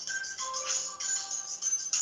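A phone ringing during a Sunday afternoon church service: a steady, bright electronic ringtone that sounds continuously at a fairly loud level, with no speech over it.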